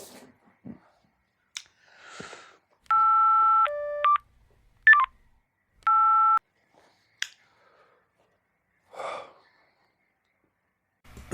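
Phone being dialed, a few distinct electronic keypad tones in short bursts amid near silence, with soft breathing and small handling noises around them.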